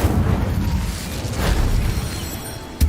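An Incendio fire spell is cast in Hogwarts Legacy, giving a loud, sustained fiery whoosh and rumble that swells midway, then ends in a sharp burst.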